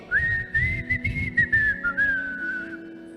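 A church congregation whistles together in a sustained, wavering melodic tone, loud and continuous, with choppy low crowd noise pulsing underneath.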